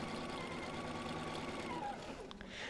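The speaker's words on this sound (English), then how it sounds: "I'm going to start sewing on the bulk, so I'm not even going to put a pin in" A home sewing machine runs a quilt block seam in one continuous, fairly quiet whirring stretch of stitching with no pauses.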